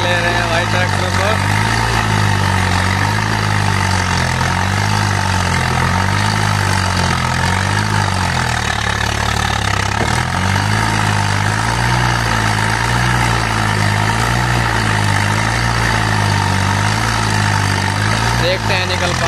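Sawraj 744 FE tractor engine labouring under full load, a loud continuous low diesel roar with a throbbing beat that stays steady throughout, close by.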